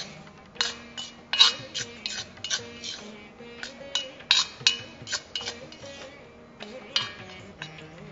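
Native sorghum flour dry-roasts in a heavy pan over low heat, with rhythmic metal scraping and clinking as it is stirred, close and fairly quiet, with a low hum underneath.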